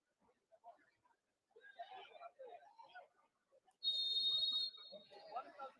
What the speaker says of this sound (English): So the referee blows the whistle